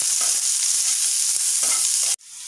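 Chopped onions with mustard seeds, fennel and cinnamon fry in hot oil in a pan, giving a loud, steady close sizzle that is briefly stirred, then drops sharply near the end.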